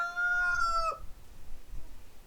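A rooster crows once, close and clear, with a sustained call that breaks off sharply, leaving faint low outdoor rumble behind it.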